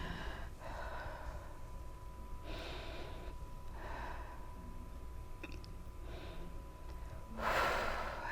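Slow, deep breaths drawn into the diaphragm come in several long audible inhales and exhales spaced a second or two apart, close and soft, ending with a louder rushing exhale.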